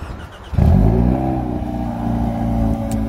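A 2023 Hyundai Elantra N engine turns over by remote start, cranking briefly then catching with a loud, throaty bark that settles into a steady, close idle rumble.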